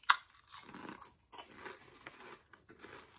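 Crunchy snack chips being chewed close up, like greasy Munchos, with a few short bursts of crunching and biting spread over a few seconds.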